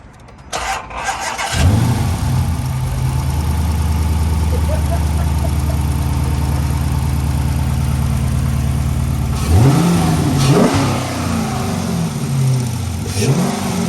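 A tuned 5.7 Hemi Charger fitted with a loud intake cranks and fires up, settles into a deep, steady idle, then barks out several strong revs up close.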